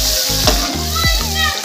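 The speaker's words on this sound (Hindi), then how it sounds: "तो अब मैं इसमें टमाटर ऐड करूँगी" Tomatoes go into fried masala in a pan, giving a steady sizzle with a quick burst of splattering, while a low tonal hum runs underneath.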